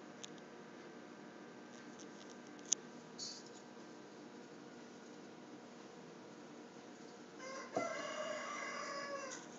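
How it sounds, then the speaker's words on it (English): Roosters crow faintly in the distance in the early morning, with a steady low background hum and a few small clicks, and a louder clatter near the end. "the roosters are crowing and I am working."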